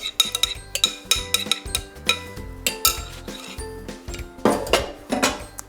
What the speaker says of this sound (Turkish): Her şeyi komple tencerenin içine transfer ediyorum.